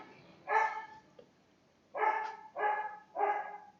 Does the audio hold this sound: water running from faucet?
no